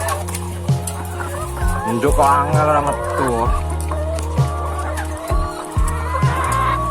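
Chickens cluck in bursts close by while a person talks over them, with a livelier flurry of clucking midway.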